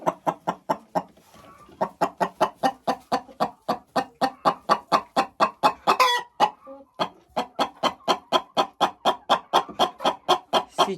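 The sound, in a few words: chickens clucking in a henhouse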